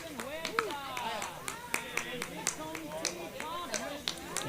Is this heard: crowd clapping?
yes